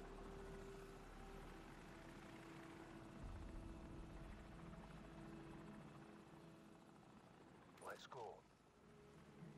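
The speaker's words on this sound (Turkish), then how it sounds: "Helikopter duydum." A helicopter in Call of Duty 4 Modern Warfare drones faintly in the distance as a low, steady rotor rumble, with a brief sharp sweep near the end.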